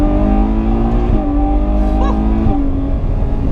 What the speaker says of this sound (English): Well, 800 horsepower Ferrari V12.